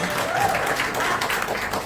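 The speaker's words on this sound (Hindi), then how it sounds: "जोरदार तालियां प्लीज" Audience applause at a cooking reality show trailer launch event, steady dense clapping filling the whole stretch with a broad wash of hands, crowd noise and chatter underneath.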